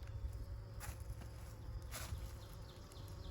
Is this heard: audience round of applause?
no